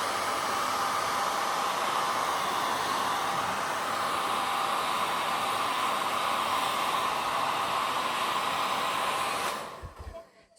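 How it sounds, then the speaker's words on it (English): A hair dryer blows steadily with a loud, even whooshing hiss for several seconds, then cuts off abruptly near the end. "we're going to use a hairdryer to test the shape of the aeroplane wing"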